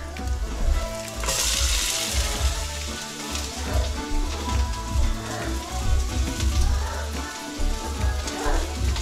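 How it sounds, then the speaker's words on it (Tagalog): Ginger sautéing in a hot pan as the first step of a salmon-head sinigang, a steady close crackling sizzle that fills the whole stretch, loud and continuous with no voices over it. "Igigisa ko lang muna itong aluya"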